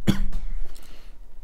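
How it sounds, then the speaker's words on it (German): A single sharp cough from a man, close and loud, followed by a brief fading breath and room noise, with no speech. "Ich muss mal eben husten."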